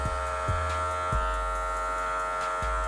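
An electric hair clipper buzzes steadily and close during a haircut, a constant motor hum with a few soft bumps as the blade meets hair.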